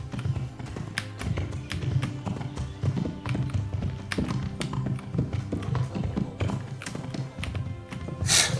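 Horse hooves clip-clopping in Kingdom Come: Deliverance, a steady rhythmic patter of taps at moderate volume under faint background game ambience.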